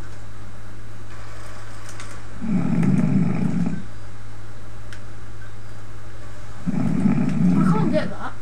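Loud, rasping snores come over a Skype call, two long bursts separated by a quiet gap, with a steady hum underneath.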